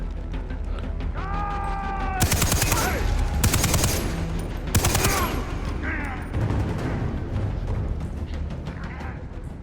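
Gunfire and explosions from the video game Far Cry 3: rapid bursts of automatic fire and several loud, broadband blasts crowd the clip, with someone talking over the action.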